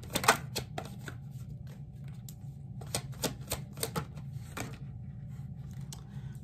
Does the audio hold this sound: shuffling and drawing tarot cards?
yes